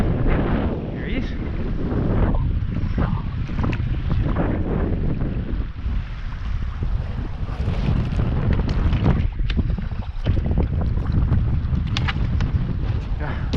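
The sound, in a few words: wind blowing while fishing on Swan River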